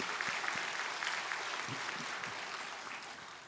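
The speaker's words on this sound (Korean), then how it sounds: "우리 한번 하나님께 감사의 박수 드리겠습니다." A church congregation at a Sunday worship service gives a steady round of applause, moderately distant, fading gradually toward the end.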